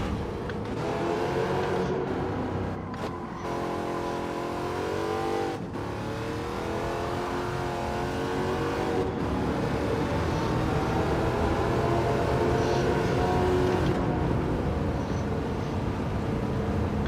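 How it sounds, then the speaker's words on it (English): Race car engine in the Gran Turismo 7 racing game, revving hard through the gears with a steady loud drone and rising pitch sweeps, broken by brief gear-change dips. "Really got to rev out that fourth gear."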